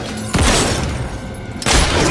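A single loud gunshot cracks out in a Batman: Arkham Origins cutscene, a sharp broadband blast with a short ringing tail, then a second heavy impact follows about a second and a half later.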